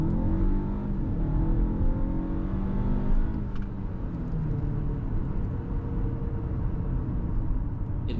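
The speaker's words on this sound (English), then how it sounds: "Let's switch the car into sport mode now and feel some of the power of the A6." A 2024 Audi A6 Limousine S Line with a 204 hp engine accelerates in sport mode, heard from inside the cabin. The engine note climbs steadily as it revs up, then eases back and builds again, with a low road rumble underneath.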